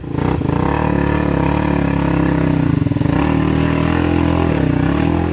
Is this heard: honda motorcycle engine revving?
yes